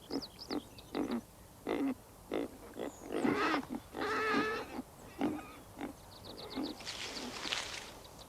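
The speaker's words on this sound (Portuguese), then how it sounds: "Em maio, os filhotes de porco listrados infestam as neves." Striped wild boar piglets grunt and squeal in a rapid series of short, high, nasal bursts on a snowy mountainside, some calls overlapping into chattering squeaks, fairly close and loud against quiet surroundings.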